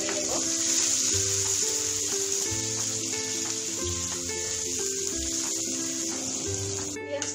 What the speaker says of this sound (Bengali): পেঁয়াজটা বেরেস্তা করে নেব।